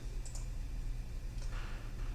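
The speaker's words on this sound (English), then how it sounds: "we just start typing Einstein" A few light, scattered key clicks from a computer keyboard as a product name is typed into an item form, faint against a steady low hum with no voices.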